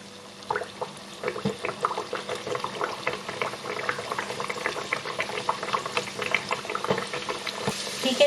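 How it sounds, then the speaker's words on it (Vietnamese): Hot oil bubbles and crackles around frying Vietnamese bánh tiêu dough, a busy popping texture that rises and falls throughout. "Chiên thêm một cái nữa nè."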